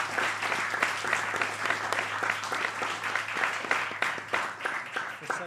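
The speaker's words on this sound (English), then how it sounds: "can we give all the children a big round of applause?" Audience applause for a children's performance at an Easwaramma Day celebration: dense, steady clapping from a large crowd that holds at an even level throughout, with no pauses.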